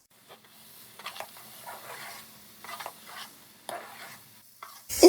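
Makhandi halwa stirred in a pan, with soft scraping swishes recurring in an uneven rhythm at close range, a faint sizzle underneath, and no voices.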